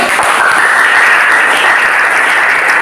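A classroom full of students claps steadily and continuously, a dense, even burst of applause with no voices over it.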